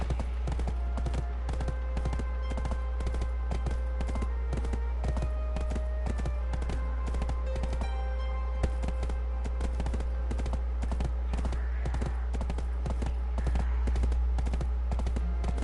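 Hooves clip-clop in a steady, fast patter over a low, constant hum, several horses walking together at moderate volume in the video game Black Desert.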